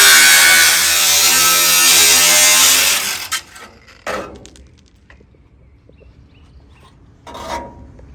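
Power tool cutting metal on a car's rocker panel, a loud dense grinding rasp that runs steadily for about three seconds and then cuts off, followed by a few short bursts and a quiet tail.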